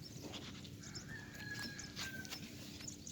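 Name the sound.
horse walking, hooves clip-clopping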